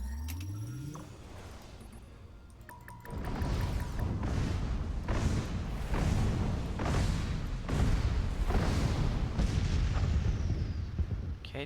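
Repeated heavy explosions from a missile base attack in the Master of Orion strategy game, a steady run of loud booming bursts, roughly one every second, after a quieter opening with a few rising synth tones.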